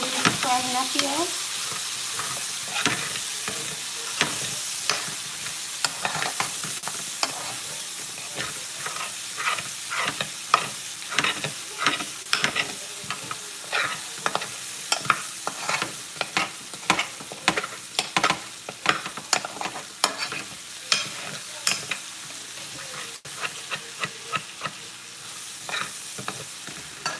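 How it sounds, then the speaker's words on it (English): Onions sizzle in a pot for stewed fish, a continuous crackle and hiss punctuated by many sharp scraping stirs that grow more frequent, heard up close and alone. "Frying up here."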